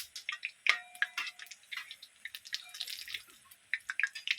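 Water splashes over food as a vegetable dish cooks, heard as a quick run of small, close drips and splashes with no voices.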